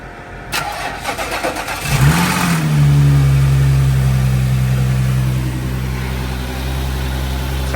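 An Audi S4 cranks and fires up, revving briefly before settling into a steady, loud idle with a strong low hum that continues to the end.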